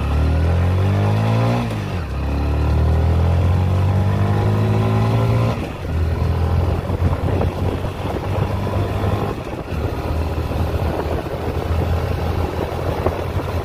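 A 2023 TVS Sport commuter motorcycle carrying two riders accelerates hard in a pickup test. The engine note climbs and drops through gear shifts over a steady roar, with wind noise throughout.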